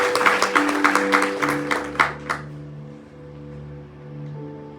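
A church congregation at an Easter celebration bursts into a quick round of clapping that dies out after a couple of seconds, leaving sustained musical tones ringing on.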